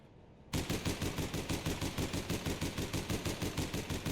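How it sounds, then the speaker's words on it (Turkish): Automatic rifle fire from the online shooter game APB Reloaded erupts after a short quiet moment into a loud, steady, rapid stream of shots that continues without a break, with no voices over it. "bu otomatik tüfek, taramalı tüfek"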